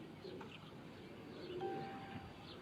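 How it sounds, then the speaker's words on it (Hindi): A young domestic racing pigeon softly coos at close range, a few low, murmuring calls over a steady background hum, with no talking. "ये सनी भाई के घर का कबूतर है जी"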